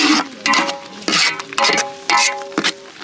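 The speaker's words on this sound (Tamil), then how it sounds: "வந்து கைவிடாமல் கிண்டிக்கிட்டே இருக்கணும்." A spoon stirs jamun fruit halwa in a pan, village cooking style, making short bursts of scraping and clinking against the metal, repeated in an uneven rhythm, close and moderately loud.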